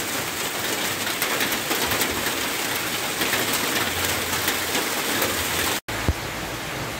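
Steady rain falls heavily during the rainy season, a dense continuous hiss close by with a brief cut near the end before resuming.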